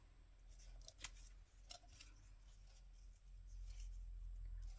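Scissors cut paper for a collage in a few crisp, quick snips close by, followed by quieter rustling against a low background hum.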